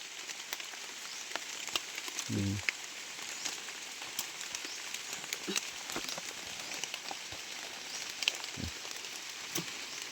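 Rain falls steadily outdoors during a wild mushroom hunt, a soft even patter with a few louder drops hitting nearby surfaces, and no voices.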